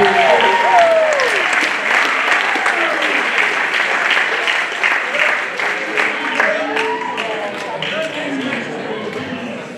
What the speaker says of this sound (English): Can we get another round of applause for Melissa?